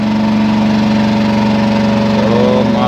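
Mobile crane engine running during loading onto a low-bed trailer: a loud, steady diesel drone with constant rumble and no break, close to the microphone throughout.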